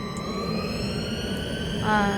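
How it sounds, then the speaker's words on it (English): An airliner in a cabin crew simulator game takes off, its jet engine holding a steady whining roar with tonal hum that swells slightly near the end while a voice talks over it. "now this plane is taking off"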